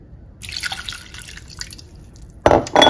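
Water poured for cooking a steamed rice dish with dried fruit in a home kitchen: a soft splashing trickle, then a louder rush of water near the end, with no talk.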